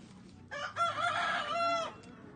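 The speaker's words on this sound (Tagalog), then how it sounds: "kung naririnig niyo yung manok," A rooster crows once, loud and close, a long drawn-out call with a rising then falling tone, surrounded by quiet.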